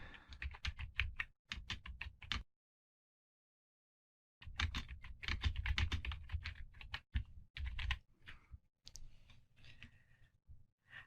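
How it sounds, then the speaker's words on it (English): Fast typing on a computer keyboard, dense bursts of key clicks with a pause in the middle, then irregular tapping, close and clear with no voice. "And then you can just simply type away."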